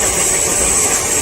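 A gear-driven self-powered generator's motor runs with a loud, steady drone and a constant high whine, unbroken throughout.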